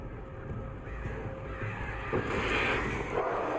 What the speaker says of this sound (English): Yeah, birds.